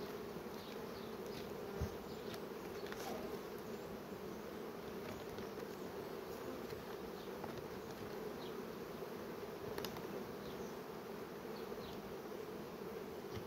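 Dense, steady hum of many small bees from young swarms with spare queens foraging for nectar at the hive, a continuous close buzzing drone with no pauses.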